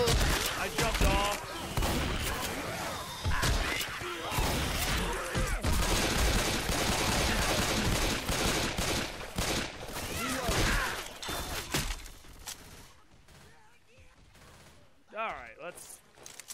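Rapid bursts of shotgun gunfire in Left 4 Dead 2 sound loud and dense for most of the stretch, overlapping in heavy volleys, then thin out to quieter gaps with a last short burst near the end.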